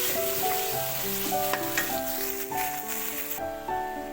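Chicken pieces fry in a pan with a continuous soft sizzle, partly masked by melodic background music playing over it.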